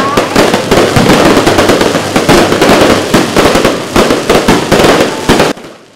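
Fireworks burst over the Keelung night sky during the Ghost Festival lantern-lighting ceremony at Zhongzheng Park, a loud, dense barrage of rapid cracks and bangs that stops abruptly near the end.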